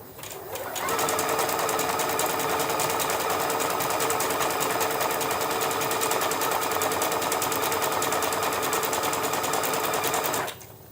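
A Bernette Chicago sewing machine zigzag-stitching a black skyline applique whirs in one long, steady, loud run of rapid needle strokes, starting and stopping abruptly.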